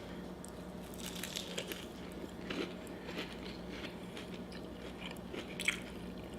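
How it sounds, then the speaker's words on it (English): Someone bites into a crunchy Flamin Hot Cheetos–fried colossal prawn, making close crunching and chewing sounds in a repeated irregular rhythm. The sounds are fairly quiet, with one sharper crunch near the end. "Outside is delicious and crunchy."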